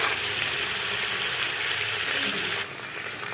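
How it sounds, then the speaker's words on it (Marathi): Potato, tomato, cauliflower and peas with bay leaf sauté in hot oil for a veg pulao, giving a steady, close sizzle and hiss that dips slightly near the end. "छान असं आपलं सर्व मिश्रण तेलामध्ये छान असं परतत आहे।"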